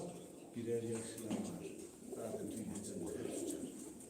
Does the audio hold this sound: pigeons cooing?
yes